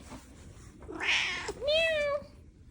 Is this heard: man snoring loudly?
no